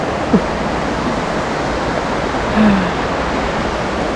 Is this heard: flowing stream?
yes